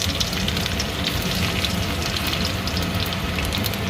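Cumin and garlic dropped into hot oil for Bengali-style jute leaf fry, producing a loud, steady, dense crackling sizzle that holds unbroken throughout, close up with no talk.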